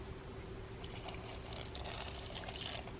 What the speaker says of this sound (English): I added 2 ounces of water,